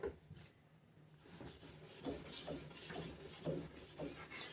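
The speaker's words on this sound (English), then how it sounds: "the next step is sanding." Repeated rhythmic rubbing and rasping strokes of sanding a plastic headlight lens with a disc, close and moderately loud with no talking.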